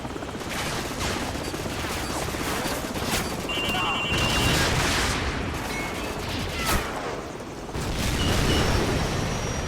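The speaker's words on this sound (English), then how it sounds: "So, grab another Stinger and fire again." A Stinger missile launcher fires during a Call of Duty 4 campaign battle, buried in loud, continuous gunfire and explosive booms with a brief swell near the end.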